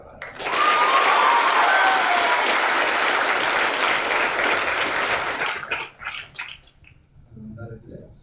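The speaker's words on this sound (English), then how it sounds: "And a big round of applause for our honorary senior," An audience at a school fall sports program applauds for an honorary senior, loud sustained clapping that swells quickly, holds for several seconds and then tapers into scattered claps.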